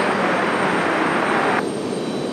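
An American Airlines Boeing 777 jet coming in to land crabbing into a crosswind, a loud continuous engine roar filling the scene that drops in intensity partway through.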